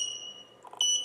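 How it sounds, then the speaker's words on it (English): A studio strobe emits a sharp, high electronic beep when it is fully charged and ready to fire; a sustained tone sounds near, with a brief soft click just before the beep swells louder at the end. "makes a nice beep sound knowing that they're fully charged and ready to shoot again"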